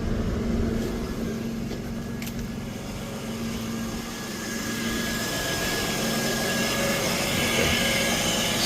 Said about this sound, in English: I will leave it open so the engine can get warmer to operating temperature